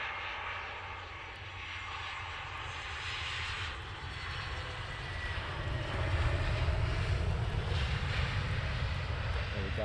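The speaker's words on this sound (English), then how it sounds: "here we're coming over the threshold now of 25" A Wizz Air airliner landing over the runway 25 threshold at Luton Airport gives a steady engine roar that swells louder toward the end, with a low rumble and faint ticking above it.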